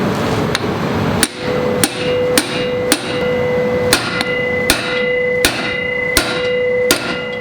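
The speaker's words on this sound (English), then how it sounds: "I'm going to use this guy, which is an impact screwdriver." A hammer strikes an impact screwdriver to loosen a stubborn screw on a Honda Goldwing motorcycle during front wheel removal, with about a dozen sharp metallic blows at a steady, uneven pace, loud and close.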